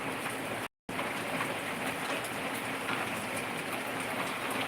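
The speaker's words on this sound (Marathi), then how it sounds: "अगदी जोरजोरात पाऊस पडत आहे" Heavy, steady rain pours down in Nanded district, a dense continuous hiss filling the air with one brief dropout.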